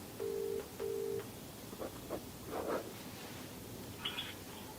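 A telephone call is being placed: two short, even ringing tones sound in quick succession, followed by a few soft clicks and faint rustling, with no talking.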